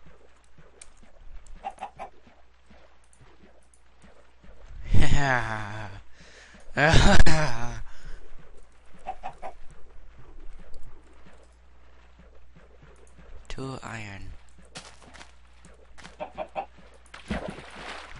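Chickens clucking in Minecraft, a few loud squawking bursts and scattered clucks spread over a quiet stretch, with brief speech.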